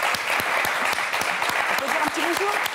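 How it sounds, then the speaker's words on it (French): Loud, sustained applause from the studio audience of a French television game show fills the room evenly throughout, while a voice speaks over the clapping near the end. "j'aimerais qu'on les applaudisse très fort"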